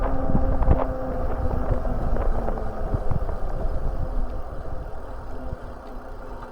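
A steady breeze rushes past the microphone while a Kingbull Literider 2.0 folding e-bike coasts downhill on a warm day, producing a constant low buffeting roar with no talk.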